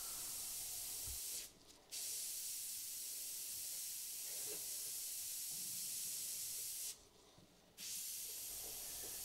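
An airbrush sprays paint close up onto a surface in a faint, steady hiss. It cuts out briefly twice, with short gaps of silence, and no one speaks.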